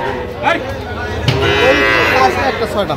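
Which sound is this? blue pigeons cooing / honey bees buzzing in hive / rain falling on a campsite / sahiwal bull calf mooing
sahiwal bull calf mooing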